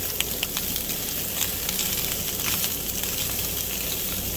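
Nineteen ounces of Italian sausage browning in a cast iron pan give a continuous close sizzle with light crackling pops throughout, and no one speaks.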